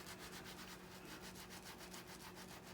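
Soap is rubbed lightly over a wet felted feather built on thread-wrapped wire, giving a steady, close, soft scrubbing with a faint back-and-forth rhythm throughout and no talking.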